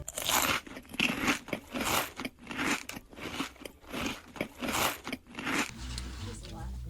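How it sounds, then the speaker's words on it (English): Someone chews pizza close to the microphone, giving wet, crunchy bites in an uneven rhythm that stop near the end, where background music takes over. "hearing my chewing, and I bet it's disgusting"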